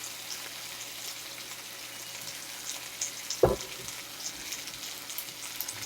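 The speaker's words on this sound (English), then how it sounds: "You hear that sizzle, you know everything is going smooth so far." Veal frying in a hot wok gives a soft, steady sizzle with faint crackles, and one brief louder clatter midway.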